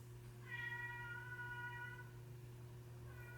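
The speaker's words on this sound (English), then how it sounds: "The dog and the cat are talking to each other." A cat gives one long, drawn-out meow, then starts another right at the end, fairly close. A steady low electrical hum runs underneath the whole time.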